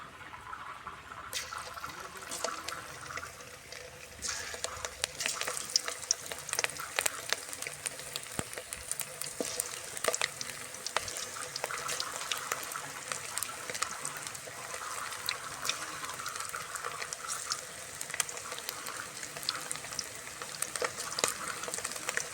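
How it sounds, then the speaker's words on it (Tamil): Chicken pakoda pieces fry in hot oil, a dense, continuous crackling sizzle that stays busy and fairly close throughout. "எண்ணெய் நல்லா சூடாகிடுச்சு இப்போ நான் வந்து சிக்கனை போட்டுக்கிறோம்"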